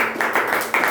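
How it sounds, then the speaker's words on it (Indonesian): A short round of classroom applause, several quick claps close together in a brief, fairly loud patter. "berikan tepuk tangan untuk kita semuanya"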